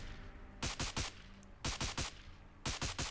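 Three bursts of heavy rifle fire from a .50 cal weapon in Fallout 4, each burst a rapid string of three or four loud, sharp shots, spaced about a second apart over a low game hum.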